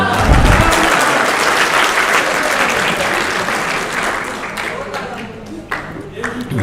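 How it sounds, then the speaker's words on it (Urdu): Loud applause breaks out from a crowd at a 2020 comic poetry recital in Muzaffarabad, a thick clapping roar that slowly thins out toward the end. "ان کی کمپیرنگ کے لیے تالیاں جائیں"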